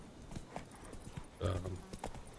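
Roach the horse in The Witcher 3: Wild Hunt, clopping hooves in an uneven walking rhythm with a louder, fuller thud midway and a brief low tone, moderately close and free of talk.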